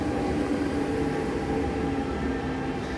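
A train running at Sunny Bay Station on the Hong Kong MTR, a steady loud rumble of wheels and motors filling the whole span without pause, no voices over it.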